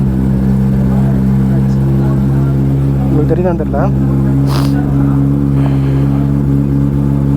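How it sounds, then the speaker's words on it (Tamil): A Kawasaki ZX-10R superbike engine idles with a deep, steady drone close by, while a person talks briefly over the constant rumble. "ஒரு சூப்பர் பைக்கோட சவுண்டை நம்ம கேட்குறோம்"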